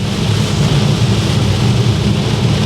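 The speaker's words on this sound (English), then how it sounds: "it's raining again in Scotland" Dense, steady roar of heavy rain in Scotland with a low rumble underneath, loud and unbroken throughout.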